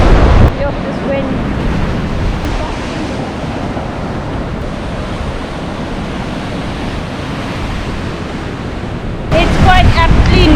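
Ocean waves crash against the rocks at Storms River under a strong wind, a loud, continuous roaring wash with heavy wind buffeting on the microphone and a louder surge near the end.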